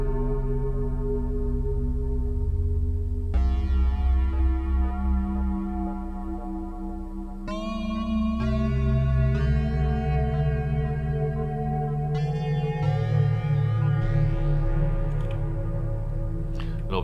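Sustained synth tones with reverb effect set to 50%, layered chords and bass notes changing every few seconds, steady and loud throughout with no voices.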